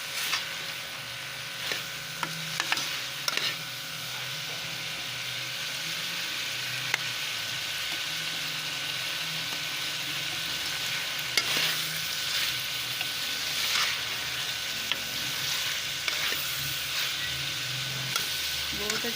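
Potatoes and cauliflower roasting in a pan for aloo gobhi, with a steady low sizzle and scraping stirs and occasional clinks from a spoon throughout, fairly faint and close.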